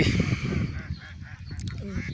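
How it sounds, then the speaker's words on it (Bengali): Many native ducks on a Jamuna river char give loud, close honking quacks in a brief burst, with a voice briefly heard among them. "এইখানে এই দেখেন অনেকগুলা হাঁস"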